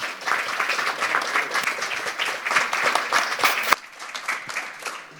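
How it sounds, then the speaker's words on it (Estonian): A room of people at a panel discussion breaks into applause, dense clapping that carries on, then thins out toward the end. "nad väärivad ühte aplausi veel meilt, eks ole?"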